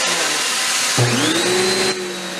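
Karcher K1700 Cube electric pressure washer with its stock 15-degree nozzle, a steady whine that jumps abruptly into a loud motor hum with a rising tone, then drops back near the end.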